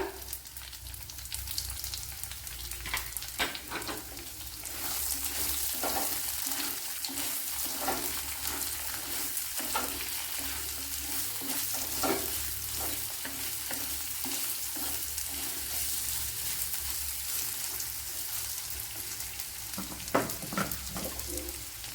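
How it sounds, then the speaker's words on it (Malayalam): A large chopped onion frying in a pan for eggplant thokku curry, a steady loud sizzle with intermittent spoon scrapes and stirring clatter, no talking. "ഇതിലേക്ക് ഒരു വലിയൊരു സവാള കട്ട് ചെയ്തെടുത്തിട്ടുണ്ട് അപ്പോൾ ഇതുപോലെയാണ് കട്ട് ചെയ്തെടുത്തിരിക്കുന്നത് അത് തട്ടി കൊടുക്കുക"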